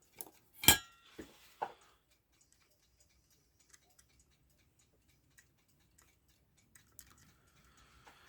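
Hands being pulled off a Gilbert alarm clock with bare fingers, giving a few sharp metallic clicks and clinks early on, then scattered faint ticks and taps.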